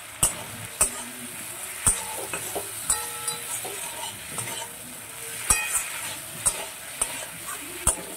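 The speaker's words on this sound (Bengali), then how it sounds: "এবারে ভালো করে এই মশলাটা দিয়ে আলু আর পেঁয়াজটাকে কষিয়ে নেব। দিয়ে দিচ্ছি ভেজে রাখা কাঁচা কলাগুলো।" Potatoes, onions and fried raw green bananas being sautéed with spices in a pan for a Bengali fish curry: a steady sizzle with sharp, irregular spatula scrapes and clicks against the pan, close and fairly quiet, with no speech.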